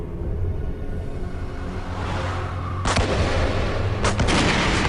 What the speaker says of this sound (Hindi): गोली मत चलाओ, गुफा गिर सकती है